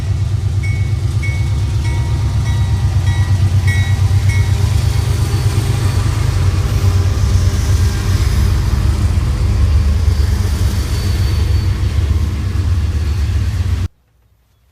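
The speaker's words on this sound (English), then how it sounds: "It's usually really quiet over here except for the occasional train passing by." A train rumbles past nearby, a loud steady roar with rhythmic clattering of wheels, cutting off abruptly at the end.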